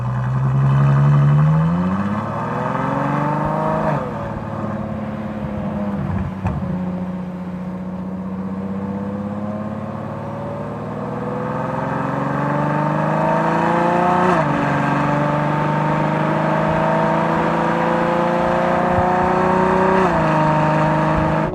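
Ferrari FF engine pulling hard from inside the cabin, revs rising in long sweeps with crisp upshifts between them, loud and steady throughout with no talking.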